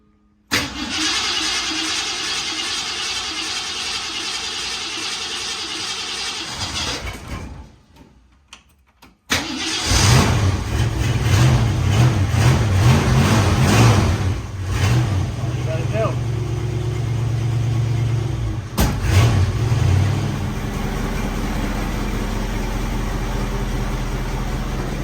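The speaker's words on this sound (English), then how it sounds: "I just showed you how to start the car." A classic Ford Mustang cranks over with a whirring starter, catches and settles into a loud, rumbling idle with a few throttle blips, after a quieter stretch where someone talks.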